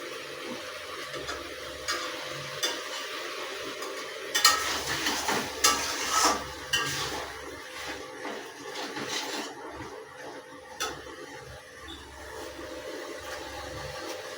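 Vegetable chorchori cooks in oil in a kadai, giving a faint sizzle with intermittent stirring scrapes and light clinks of utensils, close by and with no talk.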